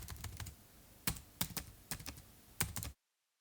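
Fingers type on a computer keyboard in quiet, scattered clusters of clicking keystrokes, close by, before the clip falls silent.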